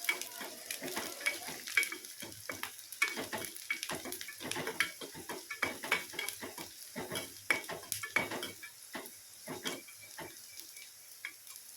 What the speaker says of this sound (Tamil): பூண்டும் நல்லா அந்த எண்ணெயிலேயே வேகட்டும்.